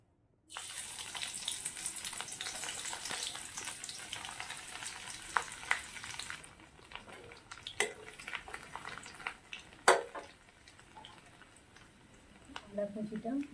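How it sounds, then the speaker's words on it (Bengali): Chopped garlic fries in hot mustard oil for a dhaba-style egg dal tadka, with a bright loud sizzle that bursts in and then settles into a quieter crackle with scattered pops and clinks. "তেল গরম হয়ে গেছে, এবার আমি প্রথমে রসুন কুচিটা তেলেতে দেবো।"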